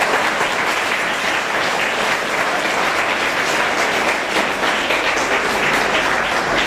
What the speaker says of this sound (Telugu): మీ ఎఫర్ట్స్ కోసం ఒకసారి అందరు క్లాప్స్ కొట్టండి.